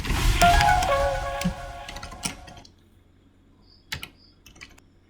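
Fingers tap out a short burst of keystrokes on a computer keyboard, clicks close and clear, followed by a near-silent pause and a couple of isolated key presses.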